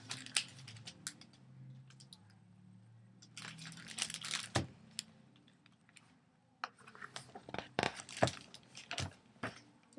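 Book pages turn, crinkling and rustling in several bursts, with soft crisp flicks and sharper snaps scattered across a quiet room.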